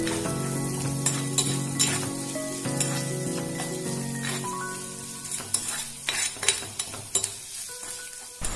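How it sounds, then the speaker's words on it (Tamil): Onions with a little salt sautéed in a pan for a prawn masala fry, giving a steady loud sizzle under repeated stirring scrapes and light clinks of a spoon against the pan, with no talking. "வெங்காயத்தில் கொஞ்சமாக உப்பு சேர்த்து நீங்கள் வதக்கும் போது உங்களுக்கு சீக்கிரமாக வதங்கிடும்."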